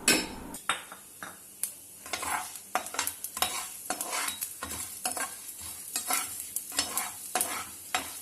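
Urad dal roasting in a pan, stirred briskly, with dense dry scraping and rattling strokes and sharp clinks of the spoon against the metal over a faint sizzle, close and steady throughout.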